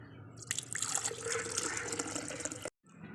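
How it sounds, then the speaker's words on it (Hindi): Cooled kahwa tea is strained and poured into a two-litre jug in a steady, splashing liquid stream that cuts off abruptly near the end. "अब हम इसे छान लेंगे, जग में डाल लेंगे।"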